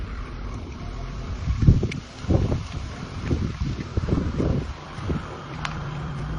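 Gusty wind at a camping ground buffets the microphone in low rumbling surges, steady and fairly close, with no voices.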